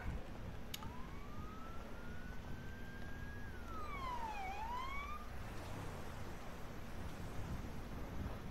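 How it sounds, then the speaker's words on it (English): A police car siren in GTA V rises in a long smooth sweep, then wails down and up again with an odd, warbling pitch over steady background noise. "Why the fuck does my siren sound like that?"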